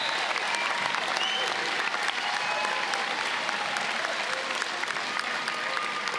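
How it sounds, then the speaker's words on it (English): Audience applause for graduates at a Whitireia and WelTec Te Pūkenga graduation ceremony, a dense, steady wash of many hands clapping at even loudness for the whole stretch, with no voices standing out. "Let's give them one big round of applause."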